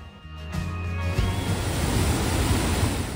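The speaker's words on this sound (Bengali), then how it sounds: "এই ঝর্ণাটা ক্রস করার পর থেকেই ভ্যালি স্টার্ট হয়ে যায়।" A mountain waterfall stream crossing on the monsoon trek to the Valley of Flowers gives a steady, dense rush of falling water that swells after the first second and stays loud and close throughout.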